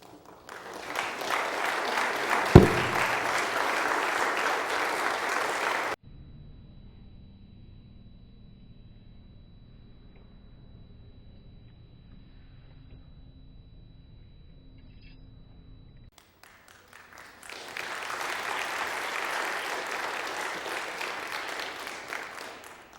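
Lecture audience applauding after a talk on death, sacrifice and resurrection, a sustained wash of clapping that cuts off, leaving near-silence for about ten seconds, then a second long round of applause.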